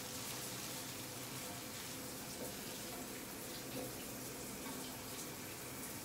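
A home shower runs steadily, giving an even hiss of spraying water that continues unchanged for several seconds with no voices.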